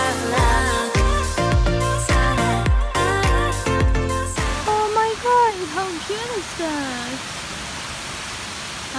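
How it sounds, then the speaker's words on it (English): A waterfall's steady, broadband rush fills the second half, continuous and fairly loud, with a voice talking over it; music plays before the water sound begins. "So now we can just see the waterfalls and look."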